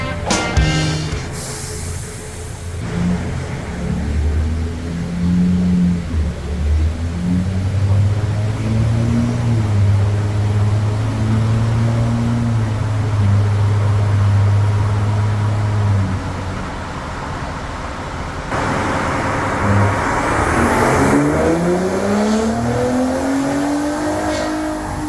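A stock-tuned Ford Raptor 3.5 EcoBoost on 93 octane revs up on a dyno, loud engine tone climbing and holding through a long pull, then dropping off and sweeping up again.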